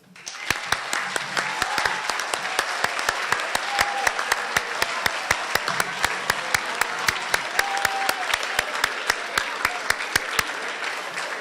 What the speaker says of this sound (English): let us all give applause to our eighth grade